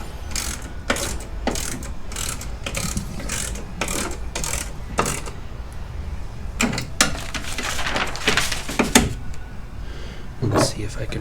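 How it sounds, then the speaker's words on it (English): A ratchet clicks in short, repeated bursts while a bolt is snugged on a tonneau bed cover installed on a Jeep Gladiator. The clicks are close and crisp, with pauses between the bursts. "just give it just the tiniest crank"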